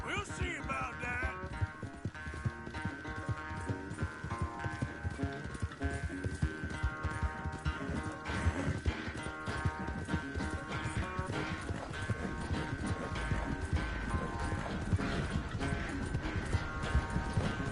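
Horses galloping in the video game Red Dead Redemption 2: steady rapid hoofbeats of a race between two riders, running continuously under a dense in-game music and ambience bed, with a voice speaking faintly at times.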